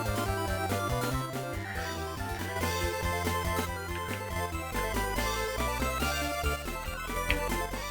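A fan remix of Mario Kart game music plays steadily, a dense, bright electronic track with a driving beat and layered melody, with no talking over it.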